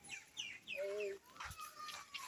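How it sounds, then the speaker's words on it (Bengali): Birds calling in the countryside near a river, a few short chirping and whistling calls in quick succession with a brief clucking note, faint and somewhat distant, with quiet background voices. "আমরা ভাবতেই পারবো না এরকম জায়গায় এত সুন্দর পাখি ডাকছে"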